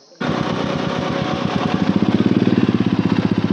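A motorcycle engine fires up close by on a hill route near Kafergaon and settles into a loud, rapid, throbbing idle that grows more pronounced.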